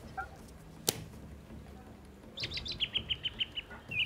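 A short burst of bright bird chirps, a quick run of evenly spaced tweets following a single sharp click, used as a sound effect over faint background noise.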